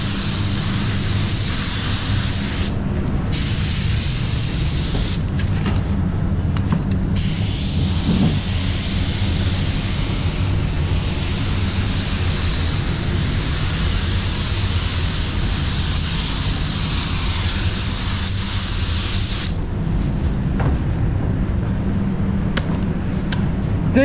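A DV1 B 1.3 spray gun at 20 psi with full fluid lays base coat on a Honda ZR-V panel, giving a continuous close airy hiss with short breaks as the trigger is released.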